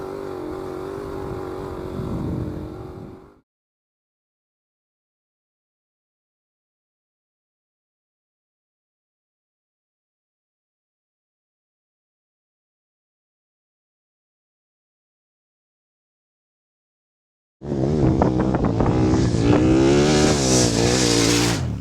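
A KTM 1190R adventure motorcycle rides through sand, its engine droning loudly and close before a long stretch of silence, then returning with strong revving and shifting pitch as the rider accelerates.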